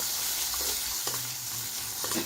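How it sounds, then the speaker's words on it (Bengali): Whole spices fry in oil with cashew paste for a traditional prawn malai curry, producing a dense, close sizzle broken by a few soft scraping stirs. "এই মশলাগুলো যখন ভাজা হয়ে যাবে তখন আমি এইখানে দুই টেবিল চামচ কাজু বাদাম বাটা দিয়ে আবার ভালোভাবে ভেজে নেব"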